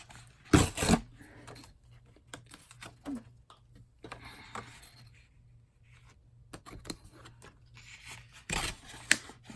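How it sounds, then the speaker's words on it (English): Scissors trim a small paper scrap for a book collage: a few sharp, scattered snips close by amid quiet rustling, with long near-silent gaps. "I'm just going to trim this off first."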